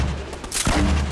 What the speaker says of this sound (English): God, I have a grenade launcher!